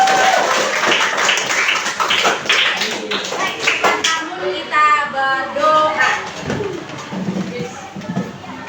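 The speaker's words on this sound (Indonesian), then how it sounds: "Tepuk tangan untuk kita semua." A burst of clapping from a small group, fast and irregular, with voices chattering through it and tapering off toward the end.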